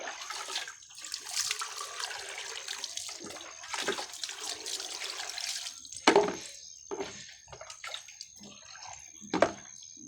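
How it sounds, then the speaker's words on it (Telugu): Water poured into a container by hand before it is fed through a small pipe, heard as irregular splashing and gurgling pours with a couple of sharper splashes, fairly close, with no talk. "ఇది ఇందాక చెప్పినట్టు దీంట్లో వాటర్ పోసుకొని"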